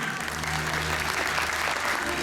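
A crowd at a music event applauds in a continuous, dense wash of clapping, with a faint hum and a murmur of voices underneath.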